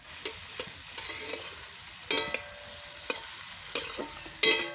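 Vegetables for a thin potato and bitter gourd curry with live stinging catfish fry in a pan at medium heat, crackling with repeated sharp stirring scrapes at close range, alone without talk.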